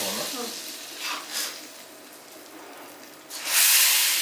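Ginger curry masala meets hot water in a pan, giving short stirring sizzles early on and then a loud, bright burst of hissing sizzle near the end, with no voices.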